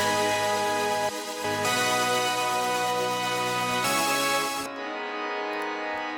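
Thick, sustained chords from three layered synthesizers with a gritty, distorted edge ring out loudly, changing every couple of seconds before thinning out near the end.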